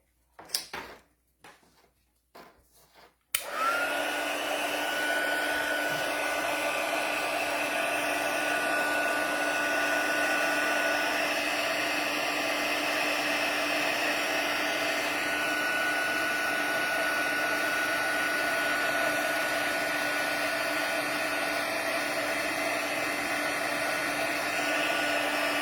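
After a few brief clicks and handling knocks, a heat gun switches on and blows steadily and loudly, melting clear embossing powder on a handmade card for over twenty seconds without a break.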